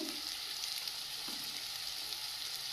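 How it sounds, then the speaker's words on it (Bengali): Chopped ginger and garlic fry in hot oil for a mutton curry, producing a constant soft, bright sizzle with a faint stir or two as ground spices start going in, heard alone without talk. "আদা রসুনটা ভাজা ভাজা হয়ে গেছে একে একে গুঁড়ো মশলাগুলো দিয়ে দেব"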